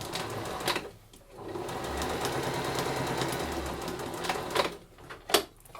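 A sewing machine stitches a drawstring bag seam, running in a steady close whir with a short pause near the start and a stop with a thump near the end.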